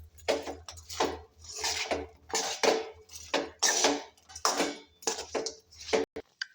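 A spoon scrapes and clinks against a pan while mixing onion manchurian, repeated rhythmic metallic scraping strokes, close and fairly loud, with no talking.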